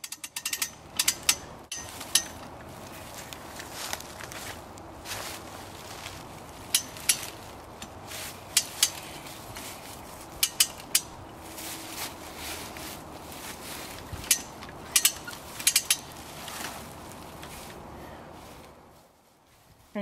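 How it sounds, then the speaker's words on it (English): A winch on a LogRite arch pulls up a log with a run of sharp, rhythmic ratcheting clicks over a low mechanical grind, fairly close and with no talking. "Set the choker. Now just winch up the log."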